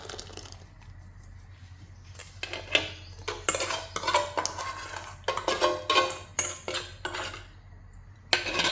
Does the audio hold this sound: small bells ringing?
no